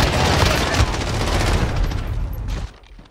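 Sustained automatic fire from an M19 in a shooter video game, a dense loud burst of rapid shots lasting nearly three seconds, then dropping off sharply.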